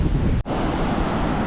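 Ocean waves and wind on Kuta beach in Bali roar loudly and continuously, with heavy wind buffeting the microphone and a brief dropout, no voices.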